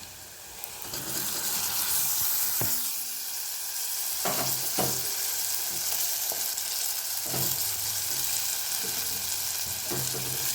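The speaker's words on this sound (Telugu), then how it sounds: "టమాటా వేసేసి కలిపేసుకుందాం." Chopped tomatoes tipped into a hot pan for a dried prawn and brinjal curry and stirred, giving a steady loud sizzle throughout, punctuated by several sharp knocks and scrapes of the spoon against the pan.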